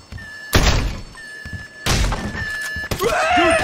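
A door opens in the video game GTA 5 with a heavy thunk, followed by more solid knocks and thuds. A faint tonal hum runs underneath, and a brief voice-like sound comes near the end.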